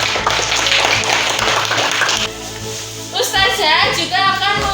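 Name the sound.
classroom applause, children clapping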